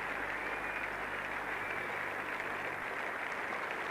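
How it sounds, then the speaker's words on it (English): Crowd applause at a 1980 England versus West Indies cricket Test match, a faint, distant, steady wash of clapping from the ground. "a lot of the applause from the England players is in relief, as well as acknowledging yet another fine half century"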